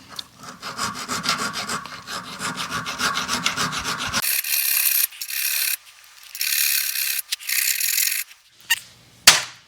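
A small metal file rasps on a steel part from a 1973 Mercedes 450SL R107 steering linkage, in quick repeated strokes at first, then in longer separate scraping passes with short pauses between them, close and clear, no voices.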